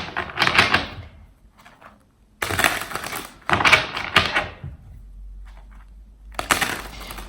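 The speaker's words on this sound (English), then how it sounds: "if I can shuffle this deck" A deck of tarot cards is shuffled by hand in three or four crisp bursts of papery riffling and flicking, with short quiet gaps between them and no talking.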